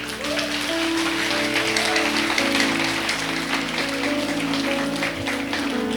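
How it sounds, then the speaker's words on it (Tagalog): Applause from the congregation at a church service fills the room with a dense, steady patter of clapping, and a voice can be heard beneath it. "Wala yung palakpak ninyo, parang palakpak ano lang."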